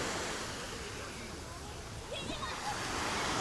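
Continuous wash of Mediterranean Sea waves and surf at a beach in Alanya, Turkey, broad and rushing, with wind and faint distant voices mixed into the steady roar.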